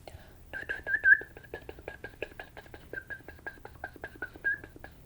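A steady whistled tone runs throughout, broken into quick repeated pulses, with soft breathy sounds around it and no clear speech.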